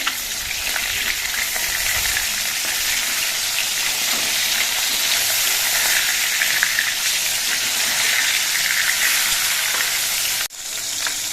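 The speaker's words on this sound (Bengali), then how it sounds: "মাছগুলোর এক পিট কিছুক্ষণ ভাজা হওয়ার পর মাছগুলো আমি উল্টে দিচ্ছি" Rohu fish pieces frying in oil in a pan, a loud dense sizzle that holds steady for the whole stretch before dipping briefly near the end.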